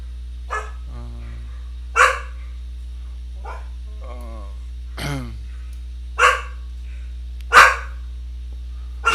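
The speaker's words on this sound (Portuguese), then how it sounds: "E aí tomou um assustão com os cachorros." Several dogs bark in scattered single and double barks, some sharp and some yelping, across a steady low electrical hum, with a few fainter whines between the louder barks.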